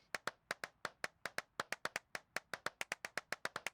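Steady, rapid hand clapping inside an abandoned church, about seven claps per second, sharp and close, with no voices.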